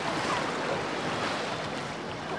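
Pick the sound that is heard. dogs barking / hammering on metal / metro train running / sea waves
sea waves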